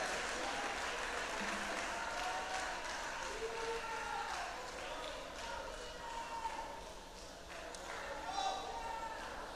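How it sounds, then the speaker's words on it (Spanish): A church congregation claps and cheers at a worship service, a broad sustained wash of applause with voices rising over it throughout. "Dale el aplauso a Cristo, por favor."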